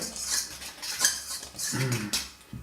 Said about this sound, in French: On mélange les éléments secs, donc farine et sel.